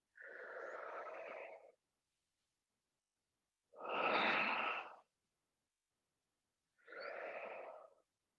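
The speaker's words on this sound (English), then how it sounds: "And blow out so hard, like you're trying to blow someone over next to you." Three forceful exhalations during an exercise routine, each a breathy rush lasting about a second and a half, spaced by quiet pauses, the middle one loudest, close to the microphone.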